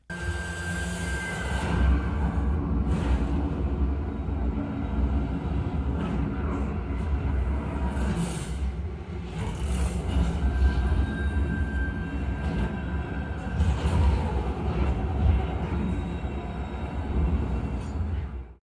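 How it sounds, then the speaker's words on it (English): A loud, steady train rumble in a tunnel with rushing air swirling around, deep low-end roar and occasional swells, continuous with no voices, from the film Mission: Impossible – Dead Reckoning Part One. "when the train goes through the tunnel, you can hear the air blowing all around you"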